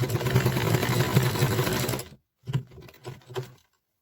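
A sewing machine stitches fabric for quilted patchwork, running in a loud, fast, continuous mechanical chatter for about two seconds, then stopping and giving a few short bursts after a brief pause.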